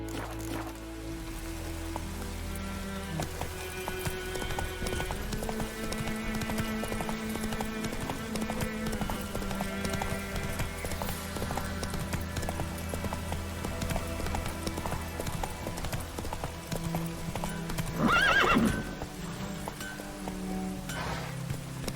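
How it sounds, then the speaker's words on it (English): A horse gallops in The Witcher 3 video game, its hooves drumming a quick, steady clip-clop throughout under a bed of game music and ambience, with a brief louder burst near the end. "Run, Roach"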